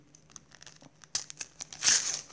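A Panini World Cup 2018 sticker packet is torn open close by, with soft crinkles building to a sharp rip and a short tearing burst near the end.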